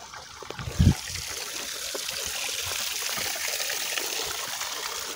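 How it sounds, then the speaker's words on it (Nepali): Drinking water trickles in a steady, close stream, with a brief louder splash or knock near the start and no talking. "यहाँ पानी रहेको छ वहाँ पर पानी रहेको छ खानेपानी"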